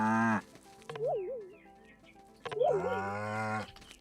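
Cattle in the farming game Staxel low, each moo a drawn-out harmonic call with a pitch wobble, two calls separated by a short pause, close and loud with no talk.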